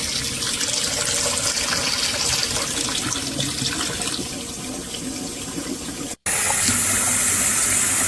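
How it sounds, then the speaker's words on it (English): Tap water gushes steadily from a faucet in Los Angeles, a loud continuous hiss and splash near the mic, with a brief cut near the end before the flow resumes brighter. "this is the water coming out of the tap in LA right now"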